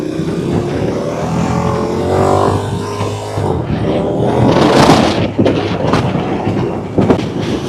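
A KTM 1290 Super Duke R motorcycle being ridden, engine tone rising and shifting loudly and close, with wind and road noise and sharp transient bursts toward the end.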